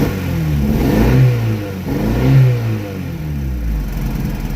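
An MG two-seater sports car, abandoned for five years and recently revived, revs in two strong surges from a rough idle, close and loud with no talk.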